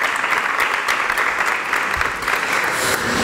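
Audience applause at the presentation of a Costa del Sol espeto (sardine skewer) contest in 2022, a dense, steady wash of many hands clapping throughout, fairly loud and without talk.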